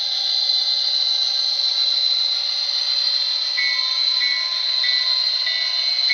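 A steady high-pitched whine of an HO scale model train running continuously past a tunnel, with faint intermittent squeaks and clicks; no voices.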